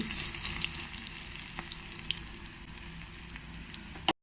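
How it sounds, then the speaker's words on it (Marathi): Crushed garlic and dried red chillies crackle in hot oil as a Marathi-style tempering for whole masoor, a steady, close sizzle with faint pops, ending in an abrupt click before silence. "ह्या ज्या वाळलेल्या लाल मिरच्या ह्या फोडणीमध्ये टाकणार आहे मी"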